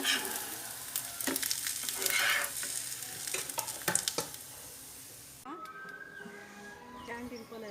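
Food fries in a little oil for aloo dosa, a steady close sizzle broken by scraping stirs of a utensil, with people talking over it before the sizzle quiets to a softer hiss.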